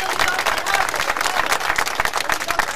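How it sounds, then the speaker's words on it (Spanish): Crowd of protesters on strike in central Buenos Aires applauding themselves, a dense, steady wash of many hands clapping close by for a few seconds. "que se den un aplauso"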